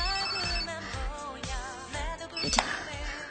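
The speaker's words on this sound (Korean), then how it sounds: "핸드폰이 울리기 시작했다" A mobile phone rings during a date, its melodic ringtone playing steadily and fairly close with a few sharper accents, no one speaking over it.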